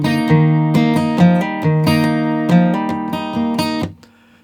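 Guitar picking the next line of a song: single plucked notes with hammer-ons ringing over open strings in an unhurried melodic run, close and clear, with the last note fading out. No one speaks.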